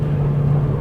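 A 2005 Audi TT Quattro Sport engine drones steadily and loudly at close range during a downshift, a low sustained hum with no voices.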